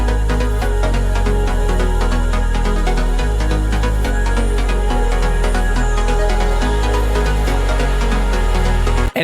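Short instrumental song idea in music production: a dense, continuous mix with a steady pulsing low end and layered chords, loud and full throughout, no voices.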